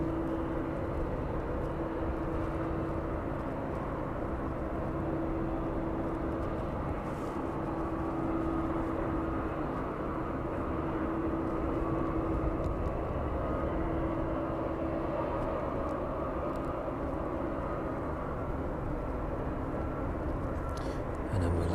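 A West Atlantic Boeing 737 taking off at East Midlands Airport gives a steady distant jet roar that hangs in the evening air for the whole stretch, with a faint background hum and no voices.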